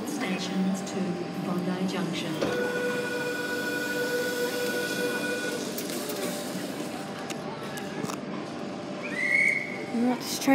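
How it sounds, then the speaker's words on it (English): A Sydney passenger train pulls away from a station with a rising motor hum and a brief whistle tone, while a voice talks in the background. "This train is now departing."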